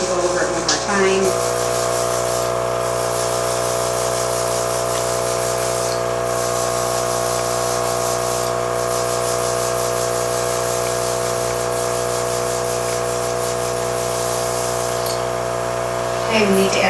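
An airbrush sprays fantasy makeup, dark golden product, in a steady, continuous hiss over a constant compressor hum that runs close and unbroken for the whole stretch.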